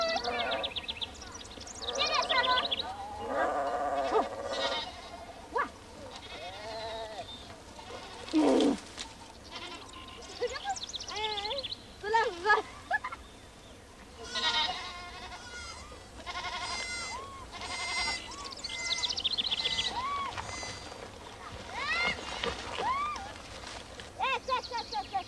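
A mountain herd of goats bleats repeatedly at sunset as a young woman draws them in with salt, the loud wavering cries overlapping and coming at uneven intervals, some close and some farther off.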